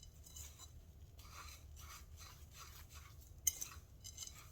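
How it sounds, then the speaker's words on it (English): A fork rasps and scrapes steadily through chicken strips coated in garlic salt in a bowl, a quiet close rhythmic rubbing in repeated strokes with one sharp metallic tick near the end. "Now we're going to mix that up with the fork."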